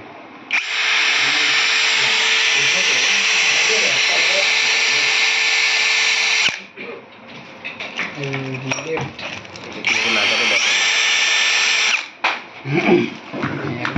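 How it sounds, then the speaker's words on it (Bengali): A brushless cordless drill/screwdriver fitted with a drill bit whirs loudly in two long sustained bursts, with clicking and handling noises in the gap between them. "এই যে স্ক্রুড্রাইভার, এই ড্রিল বিট, এই হচ্ছে ব্রাশলেস মোটর মেশিন"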